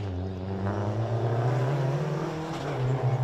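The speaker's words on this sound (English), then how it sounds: "You can hear that little 4-cylinder revving away." A small four-cylinder BMW M3 rally car engine revs hard nearby on a special stage, its buzzing drone rising and falling in pitch as it accelerates.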